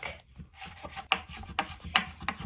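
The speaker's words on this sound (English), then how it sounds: "Next, finally dice some garlic." A knife dices garlic on a wooden cutting board for green chile stew, giving soft, uneven scraping and tapping chops with a few sharper knocks, close and quiet with no talk.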